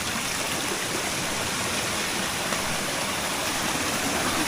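Continuous rushing of water flowing through a small irrigation channel, close and steady with no breaks.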